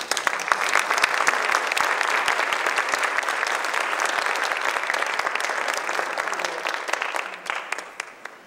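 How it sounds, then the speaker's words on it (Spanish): An audience applauds Brigitte Anguiano, widow of the artist Raúl Anguiano, at a talk about Octavio Paz. The dense clapping is sustained and steady for several seconds, then thins slightly toward the end. "Un aplauso para Brigitte"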